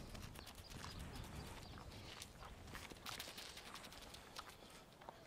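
Faint hooves of a horse clip-clopping as it walks along a rural road, a loose rhythm of soft knocks under steady outdoor background noise.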